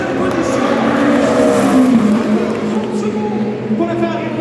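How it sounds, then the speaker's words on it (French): Ferrari race car number 83 passing down the pit straight at the 24 Hours of Le Mans, a steady loud engine roar under a commentator's voice and crowd noise, the pitch sliding as it goes by. "elle passe maintenant la Ferrari numéro 83"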